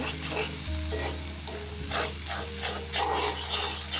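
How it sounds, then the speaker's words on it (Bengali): Egg is stirred into pasta noodles frying in a pan, a close busy sizzle broken by repeated scraping spatula strokes, with a low steady hum underneath and no voices. "এরপর দিয়ে দিলাম ডিম, একটু ডিম দিয়ে দিচ্ছি। ভালো করে একটু নেড়ে চেড়ে দেব"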